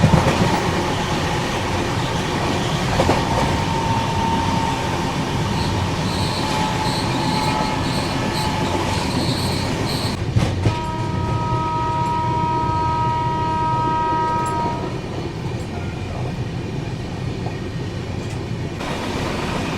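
Karnataka Sampark Kranti train running on rails near Nagpur, a steady loud rumble with clickety-clack and sustained wheel squeal tones, heard close from on board with no talking.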